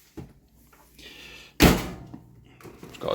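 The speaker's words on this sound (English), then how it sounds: "Door shuts nicely with a loud bang." A large second-hand LG clothes dryer in a kitchen has its door pushed shut with one loud, sharp bang, preceded by faint handling noises and followed by a quieter rattle.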